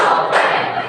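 Students clapping in unison in a classroom, a dense burst of many hands striking together at once, loud and close, with no talk over it.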